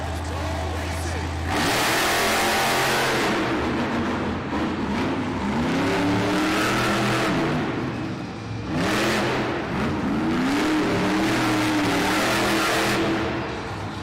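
The Sparkle Smash monster truck's engine revs loudly on a Monster Jam freestyle arena track in Wilkes-Barre, Pennsylvania, rising and falling in repeated surges beneath an announcer's voice and crowd noise.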